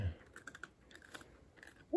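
A dog crunches a hard treat in a few quick, faint bites close by in a quiet room.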